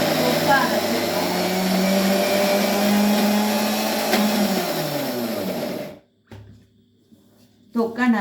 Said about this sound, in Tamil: நல்லா மிக்சியை நல்லா டைட்டாக ஃபிக்ஸ் பண்ணிவிட்டு இப்போ தொக்கா அரைச்சிடுறோம்